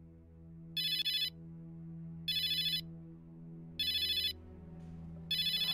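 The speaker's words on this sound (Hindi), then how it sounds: "ओह, फर्स्ट कॉल आ गया" A phone rings for an incoming call on a speakerphone conference setup: four evenly spaced electronic ring bursts, clear and fairly loud, over a low steady hum with no talking.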